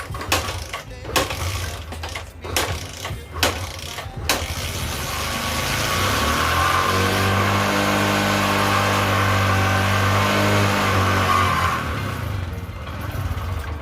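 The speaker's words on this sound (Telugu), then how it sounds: "మొత్తం మీద అయితే బండి అయితే స్టార్ట్ అవుతుంది, ఆగిపోతుంది అనమాట." An old motorcycle that has stood unused for a year, its carburetor dirty, coughs through several quick failed kicks, then catches and idles in a steady loud drone that wavers before sagging toward a stall, close by with no talk.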